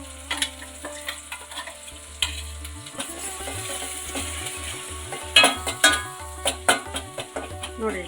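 Ground masala paste added to a frying pan for pajji sambar, with a steady sizzle and repeated rhythmic scraping strokes of a spoon stirring the paste, close and clear.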